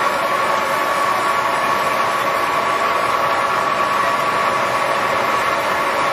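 A heavy-duty LeBlond 19 x 54 lathe spins steadily at 424 RPM, giving a loud, constant mechanical drone with a faint whine and no pauses.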